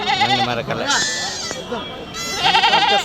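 Goats bleat in wavering, nasal cries, one after another, mixed with people talking nearby at a busy outdoor sheep and goat market in the Kadiri market yard.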